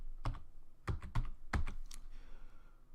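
Several quick keystrokes on a computer keyboard spell out a sprite name in a game design tool, close clicks in short irregular bursts with soft pauses between.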